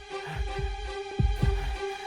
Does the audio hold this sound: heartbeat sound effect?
yes